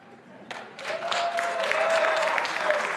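A debate audience applauds in a television studio during a Rio de Janeiro mayoral candidates' debate, the clapping swelling from a few claps into sustained, fairly distant applause while a voice talks over it.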